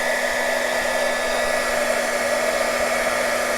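A heat gun blows hot air onto beeswax for a junk journal cover, a loud, steady, unbroken whirring hiss held close throughout.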